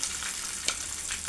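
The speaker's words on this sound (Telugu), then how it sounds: "ఇవి కొంచెం మంచిగా పోపు అనేది మాడిపోకుండా మంచిగా ఫ్రై అనేది చేసుకోవాలి." Dried chilies and curry leaves frying in hot oil for tempering, a close steady sizzle and crackle with a brief sharper spatter partway through.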